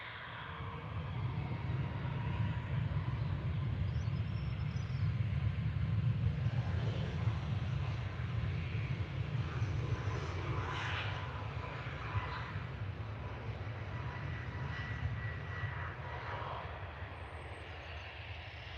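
An airplane at Liverpool Airport (LPL) rolls down the runway for takeoff, a steady loud engine roar with deep rumble sustained throughout, no voices over it.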